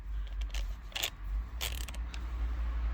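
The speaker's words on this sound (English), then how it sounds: "The nut, use a socket." A socket wrench ratchets on the nut of a Mazda MX-5 ND steering wheel, giving a few quick clicking bursts over a low steady hum, close and moderately loud.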